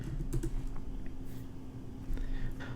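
Keys clatter on a computer keyboard in a steady, close run of quick taps while a file name is typed, over a faint constant hum.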